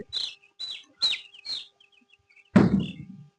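Chicks and chickens on a poultry farm give four high, short peeping chirps in a steady rhythm, followed by a louder, fuller cluck-like call, all close and clear against quiet.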